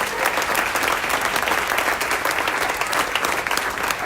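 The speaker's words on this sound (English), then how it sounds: "Give them a round of applause." Loud, dense round of applause from a room full of people at a ribbon cutting ceremony, a continuous close crackle of many hands with no speech.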